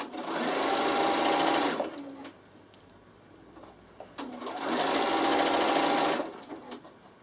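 A Bernina sewing machine stitches a seam in two steady runs of about two seconds each, a fast even mechanical whir close up with a quiet pause between.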